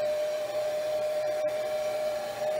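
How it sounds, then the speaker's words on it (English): A heat gun or blow dryer runs steadily and close by, drying acrylic paint on a canvas background, with a continuous whirring blow and a sharp motor whine throughout and no voices. "I grab the heat gun or blow dryer, whichever one you want to use."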